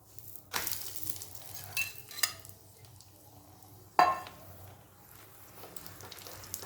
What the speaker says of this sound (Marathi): शक्यतो या पोळ्या तूप लावूनच भाजायच्या आहेत